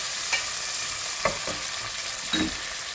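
Cut tomatoes sauté in a pan with a soft, steady sizzle, and three brief scraping stirs sound close by. Nobody talks.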